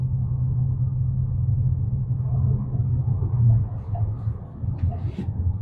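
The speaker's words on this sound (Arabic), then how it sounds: "موتور البنزين بدأ يشتغل." A Deepal S07's petrol engine runs while the car is driven in sport mode, heard from inside as a steady, fairly loud low rumble that swells briefly midway.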